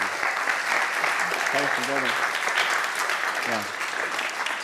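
Audience applause at a workshop session fills the room as a loud, steady clatter of clapping that runs the whole stretch, with a brief spoken thanks over it.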